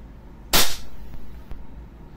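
A single sharp airsoft pistol shot from a WE Hicapa Dragon during a chronograph FPS test, loud and close, followed by a brief ringing decay and a couple of faint clicks in a quiet room.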